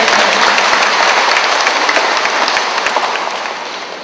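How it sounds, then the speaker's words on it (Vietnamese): An audience claps loudly at a church award ceremony, a close, dense burst of many hands that keeps steady intensity before beginning to taper toward the end. "Một tràng pháo tay ạ."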